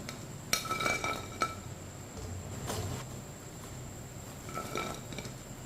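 Fried pakoras lifted from hot oil with a metal strainer and set onto a plate, giving a few sharp clinks and taps of metal on crockery between quieter kitchen handling.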